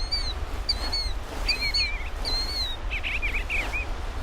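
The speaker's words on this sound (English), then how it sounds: "I hear birds chirping." Birds chirp and whistle in a game's evening woodland scene from Hunting Unlimited, a string of bright, repeated calls and short trills over a steady low rumble, moderately loud with no talking.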